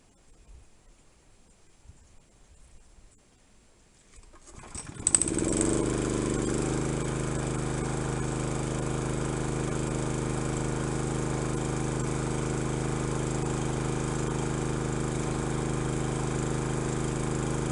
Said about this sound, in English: I'm going to turn the pump on, slowly turn these valves on, start the trommel